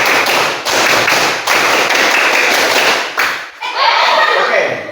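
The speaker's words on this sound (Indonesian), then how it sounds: "Tepuk tangan 3 kali" A group of children in a scout-style clapping drill claps loudly in short bursts with brief gaps between them, followed at the end by a voice.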